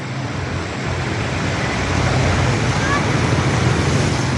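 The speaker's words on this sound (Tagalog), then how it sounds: "ang lakas ng agos" Strong current of the swollen Sta. Maria river rushing past, a loud, steady broadband roar with wind buffeting the microphone and no clear breaks throughout.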